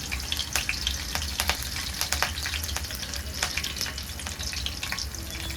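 Cumin seeds and curry leaves sizzle and crackle in hot oil in a pan, a steady close frying hiss with sharp pops scattered throughout and no talk.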